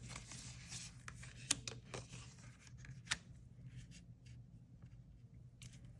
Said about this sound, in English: we're gonna grab one more shuffle of cards.